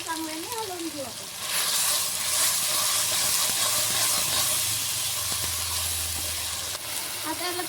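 Vegetables with masala sizzle loudly in a pan while being stirred for a Marathi-style green masala sabji, a continuous hiss with scraping stirs; a voice speaks briefly at the start.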